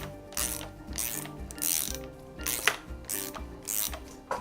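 Fine-thread suspension adjuster being screwed down with a ratchet, giving steady bursts of close, crisp ratcheting clicks in a regular back-and-forth rhythm, with no voices.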